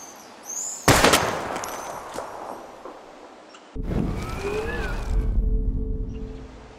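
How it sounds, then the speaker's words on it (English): Two loud gunshots ring out at bottles in Life is Strange Remastered, each followed by a decaying echo and clatter, with a faint voice in the background. "We're gonna shoot all these bottles without wasting a single bullet."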